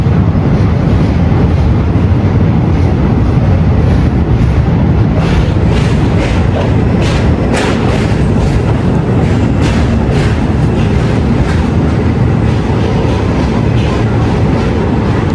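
A train rumbles across the Krishna barrage bridge near Vijayawada, heard loud and steady from on board with wind buffeting and a rhythmic clickety-clack of wheels on the rails throughout.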